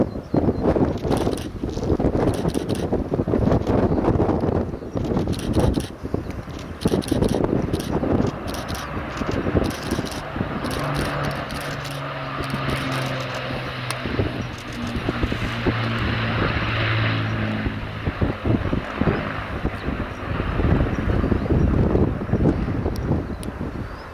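An Avro Lancaster bomber passes at an air show, its propeller engines producing a low, droning hum that swells and fades under heavy outdoor wind buffeting on the microphone.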